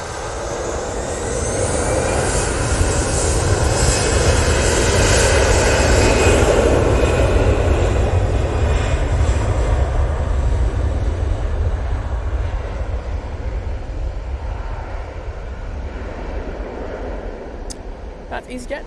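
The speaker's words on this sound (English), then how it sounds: "That Easyjet is off to Alicante." An EasyJet jet airliner departing Manchester Airport for Alicante gives a loud, sustained engine roar that swells and then slowly fades as it climbs away outdoors, with voices heard talking over it.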